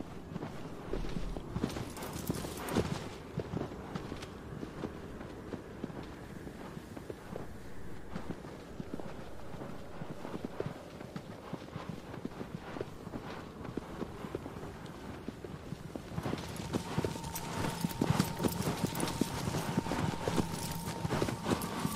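Horse hooves clip-clop in the video game Shadow of the Colossus, with a steady run of close hoofbeats that grows louder and denser toward the end over faint wind.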